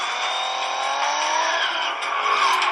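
Race cars in the film Fast Five roaring across in front of a bus, a loud continuous engine whine with rising pitch and a hint of tire squeal, then an abrupt cutoff at the end.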